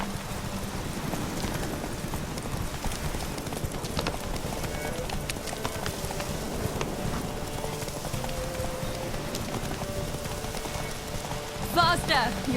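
Horse hooves clip-clopping at a steady gallop in The Witcher 3 video game, a continuous rhythmic patter under game ambience, with a voice calling out briefly.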